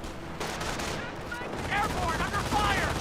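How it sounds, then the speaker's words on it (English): Rapid machine-gun bursts crackle through a Company of Heroes battle, dense and continuous over a steady backdrop of combat noise with scattered whistling tones. "Does take some base MG hits there."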